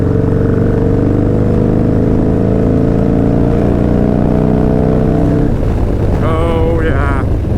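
A Harley-Davidson Milwaukee 8 motorcycle roars loudly and steadily at speed on an interstate highway, its engine drone rising in pitch, then shifting and revving near the end.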